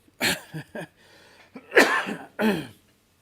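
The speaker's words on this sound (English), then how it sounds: "This cough is just driving me crazy." Several short, harsh coughs in quick bursts, close and fairly loud, with brief pauses between them.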